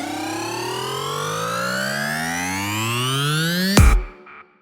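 A sample-pack riser effect: a steady tone climbs continuously in pitch over about four seconds, ending in a sharp hit followed by a short fading tail.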